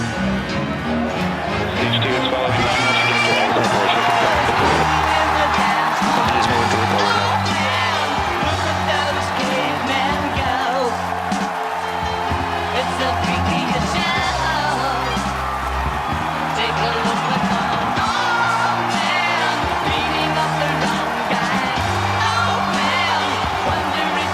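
A large crowd cheers and whoops continuously during a Falcon Heavy rocket launch stream, loud dense roaring with yells rising throughout, mixed with voices and music-like tones underneath.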